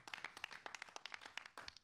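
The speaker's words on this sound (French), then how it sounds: "un tonnerre d'applaudissements" A small audience in a radio studio claps, a faint scattering of distinct hand claps with short gaps, some overlapping, soft and close.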